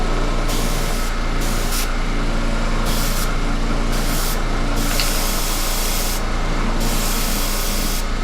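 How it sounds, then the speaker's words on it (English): An airbrush sprays paint in a steady, loud hiss over the constant hum of an air compressor. Brief gaps and changes in the spray sound across the passage. No voices. "And now I'm just going to airbrush that."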